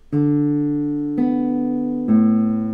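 Classical guitar notes plucked in three clean, sustained strikes about a second apart, close and clear, each ringing until the next; the D is played with a thumb rest stroke that cuts the ringing short.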